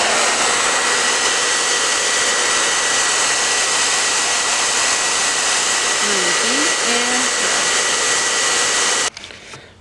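A handheld heating tool blows hot air over vinyl laid on rough unsealed wood, a loud, steady roaring whoosh that holds for about nine seconds and then cuts off.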